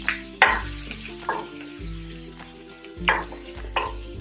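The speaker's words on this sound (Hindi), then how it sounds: "और अब इसमें जाएगा थोड़ा सा सूखा हुआ प्याज, इनको हमें अच्छे से मिक्स कर लेना है।" Dried onion and spices fry on low flame in a pan while a spoon stirs and scrapes through them, with a soft steady sizzle and several sharp clinks of the spoon against the pan.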